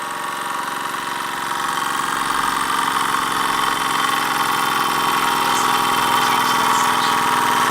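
A Robert Fulton Line vertical-boiler model steam engine with piston valve, mass fired, running at a steady, even pace with a continuous mechanical hum and chuffing drone, close and loud with no pauses.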